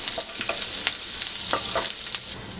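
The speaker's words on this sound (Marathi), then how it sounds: "जिरं घालूया, आले, लसूण, आलं लसूण व्यवस्थित परतून घेऊया।" Cumin, ginger and garlic sautéing in hot oil in a pan for a spicy potato dish, a close, bright continuous sizzle with a few sharp spatula scrapes and taps breaking through.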